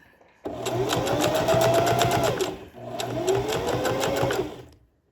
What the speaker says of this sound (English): I'm going to sew the liner to the main body of the purse